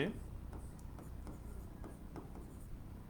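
Someone writes a sentence on a board during an English grammar lesson, producing quiet, soft scratching strokes in short bursts over a low, steady room hum.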